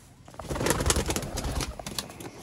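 Sialkoti pigeons of the Master Abdullah line, with pearl eyes, give low, close coos mixed with rustling and brief bursts of movement.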